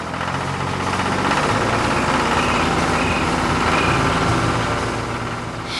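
A blue Ford tractor engine running on a farm, a loud continuous diesel rumble with a steady throbbing idle and no voices.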